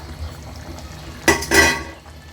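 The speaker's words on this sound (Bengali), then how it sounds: "পরিমাণ মতো জল দিয়ে দিলাম।" Water poured into a pan of fish curry with spring onion greens: a short splashing pour starts abruptly, pauses briefly, then continues in a fuller gush before tapering off, close up and alone.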